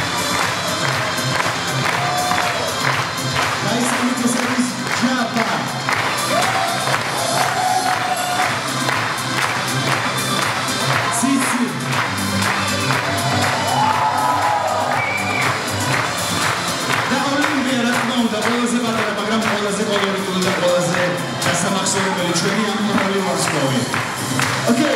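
Loud audience applause and cheering fill the stands at a dolphin show at the Batumi Dolphinarium, continuous crowd noise with a presenter talking over it and music in the background.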